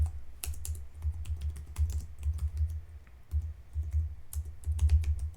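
Rapid typing on a computer keyboard, a busy stream of close, crisp key clicks with a soft thumping undertone, running steadily without talk.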